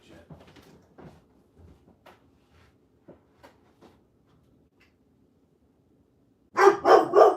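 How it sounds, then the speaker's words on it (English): A pet dog barks indoors at home, a quick burst of three loud, close barks at the end after a stretch of faint knocks and soft household sounds. "he usually doesn't bark like that unless something's legit"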